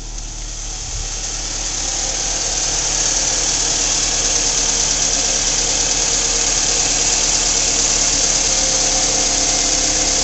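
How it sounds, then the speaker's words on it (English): A 2.4 liter car engine, paired with a 5-speed transmission, running steadily at idle, a loud close continuous rumble with a faint ticking texture and no talking. "I have the vehicle running now. We're going to check the motor."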